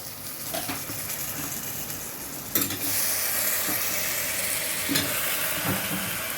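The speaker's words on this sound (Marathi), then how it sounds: "आता मसाला चांगला फ्राय झाला त्याच्यामध्ये मी कारले घालते" Bitter gourd pieces sizzle and fry in hot masala, with a continuous oily crackle and intermittent scraping of a spoon stirring through the pan, close and alone.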